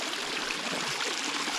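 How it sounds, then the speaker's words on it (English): A small river in Slovenia rushes over rocks at a hiker's crossing, a loud, close, continuous babble of flowing water with no voices. "Got a little river crossing."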